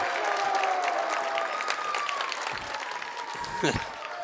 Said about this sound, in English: The Bulldog boys team applauding Alayla Perry